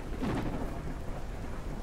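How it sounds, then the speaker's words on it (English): In the video game Forever Skies, a thunderstorm with lightning strikes gives a rumbling thunder crack over a steady wash of rain, loud and close, with no voices. "We're getting hit really hard by lightning right now."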